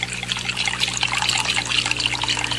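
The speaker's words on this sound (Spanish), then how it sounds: "vacía el agua en otro recipiente de distinto tamaño y forma" Water pours from a measuring cup into another container of a different size and shape, a continuous close splashing trickle that holds steady without a break.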